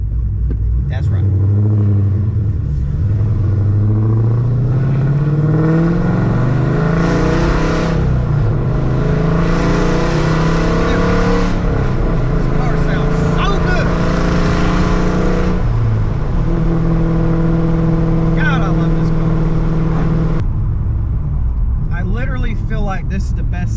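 A six-speed manual Dodge Challenger engine revving and accelerating, loud and close, its deep exhaust note climbing through rising pitch sweeps, settling back and revving again, with someone talking over it.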